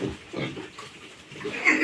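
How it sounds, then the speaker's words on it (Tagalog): Close, loud grunting oinks come from a crowded group of piglets at feeding time, with overlapping snorts and squeals in quick, irregular bursts. "Pakain tayo ng mga biik guys."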